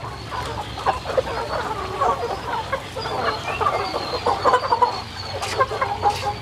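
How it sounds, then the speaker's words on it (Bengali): A crowd of tiger chickens clucks constantly on a poultry farm in Chirirbandar, Dinajpur. Overlapping calls rise and fall in busy bursts across a steady farmyard din. "দেখতে পাচ্ছেন এখানে অসংখ্য টাইগার মুরগি রয়েছে"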